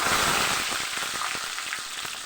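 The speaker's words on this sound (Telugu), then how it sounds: "ఇప్పుడు అందులోనే రెండు రెబ్బల కరివేపాకు కూడా వేసుకోవాలి" Garlic and curry leaves sizzle and crackle in hot oil with mustard seeds, a steady close frying hiss with scattered pops throughout, no voices.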